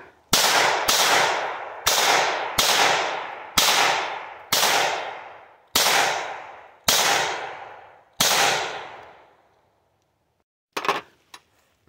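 A Taurus TX22 pistol fires about ten sharp, loud shots in a fairly quick, even series, each with a short ringing decay, followed after a pause by a few faint clicks and handling noises.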